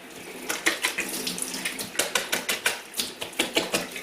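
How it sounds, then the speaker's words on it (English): Tap water runs steadily into a sink while a paint roller is rinsed clean after wall painting, with a rapid, uneven patter of splashes and scrubbing close by. "with the roller, we've just got to keep rinsing it and cleaning it until this comes out clear as well, until the water runs clear"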